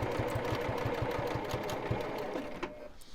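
A sewing machine runs a rapid, even zigzag stitch through basted layers of glitter vinyl for a project bag, a close mechanical chatter that holds steady for about three seconds.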